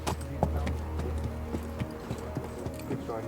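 Racehorse hooves clip-clop in a steady, rhythmic stride over a continuous low rumble, fairly close and moderately loud.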